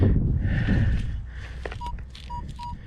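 A Minelab metal detector held over a coin in loose dirt gives three short, clean high beeps in a row, with faint wind and outdoor noise in the background.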